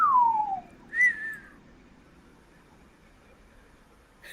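A person whistles two short descending notes, the second rising briefly before falling, clear and close against faint background hiss.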